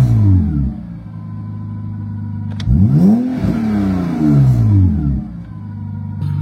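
A BMW E36 engine, freshly fitted with new ignition coils, idles then revs up and falls back in repeated smooth sweeps, loud and close, with no talking.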